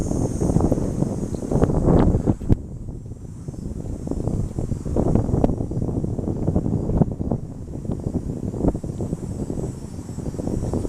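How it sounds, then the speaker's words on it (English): Strong wind buffets the microphone outdoors, a loud, gusting roar that swells and fades for the whole stretch, with occasional thumps as gusts hit. "I'm just waiting for the wind to stop."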